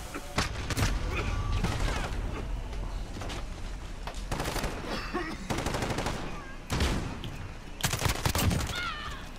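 Gunfire in a multiplayer battlefield shooter video game, with sharp bursts of shots, some rapid automatic volleys, loud and repeated throughout, and a player's voice over them.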